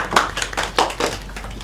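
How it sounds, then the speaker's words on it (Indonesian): A short burst of hand clapping in a classroom during a microteaching session, a few loose, uneven claps at close range with no voices. "tepuk tangan untuk Mbak Elsa."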